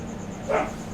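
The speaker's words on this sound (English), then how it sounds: "I don't know what she's barking at." A single short dog bark sounds at middle distance over a constant low background hum, brief and moderately loud, with no talk during it.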